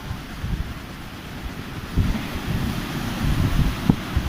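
Rough sea on the Sochi coast, with waves surging and crashing against a constant rush of wind buffeting the microphone, which swells louder toward the end.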